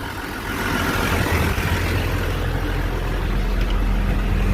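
A truck engine idles close by at a seeding and spraying job, giving a loud, steady low rumble with a constant hum and no one speaking.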